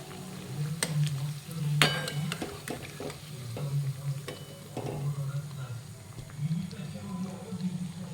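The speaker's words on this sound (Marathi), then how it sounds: "आपण दोघं बाजूने टर्न करून मस्तपैकी तळून घेतले" Bread pakoda fries in hot oil at a street-style stall, with a soft sizzle under voices. Sharp clinks and scrapes from a metal utensil against the pan punctuate the frying.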